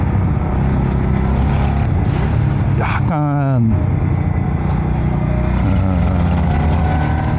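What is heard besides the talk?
motorcycle engine running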